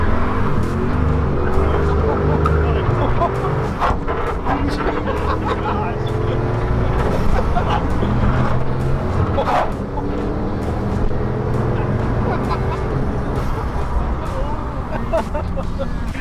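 A twin-turbo car accelerating on the lightest throttle gives a steady, loud engine drone with layered harmonics, held for the whole stretch while people talk over it.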